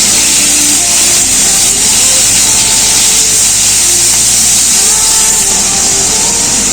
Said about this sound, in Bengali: মাংস কিছুক্ষণের জন্য ভেজে নিলাম